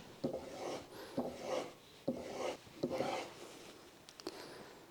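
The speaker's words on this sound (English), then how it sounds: "On the strop, on the final polish, I do about 15-20 strokes." Steel chisel edge drawn along a leather strop for a final polish, giving a series of soft, rhythmic rasping strokes about one per second, close and fairly quiet with no talking.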